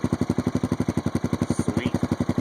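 A 2012 Honda Foreman ATV fitted with a Big Guns Eco exhaust puts out a close, steady, deep thumping engine note with evenly spaced rapid pulses and no voices.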